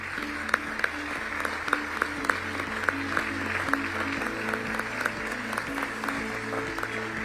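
Audience applause for visiting ministers at the 11th Our Ocean Conference in Mombasa, Kenya: steady, sustained clapping from a seated hall, moderately loud, mixed with faint background tones and no clear voices.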